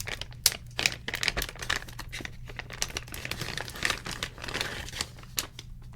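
Close, crisp crinkling of material at an ASMR show-and-tell with skateboard items, irregular rustles and crackles running steadily throughout with no talking.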